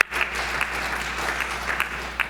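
An audience at a construction industry roundtable in Minneapolis applauds, a short steady patter of clapping with a few sharper claps standing out, moderately loud and without voices.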